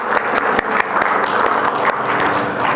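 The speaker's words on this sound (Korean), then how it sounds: "하나님께 영광의 박수 올려드리겠습니다" A church congregation at Cheorwon Manna Church bursts into loud, full applause that fills the room, many hands clapping densely and evenly for a few seconds.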